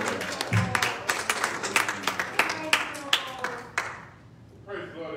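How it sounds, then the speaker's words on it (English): A church congregation claps hands in a quick, even rhythm of loud, close claps. A preacher's voice carries over the clapping, which stops near the end. "One more time, clap your hands to the Lord."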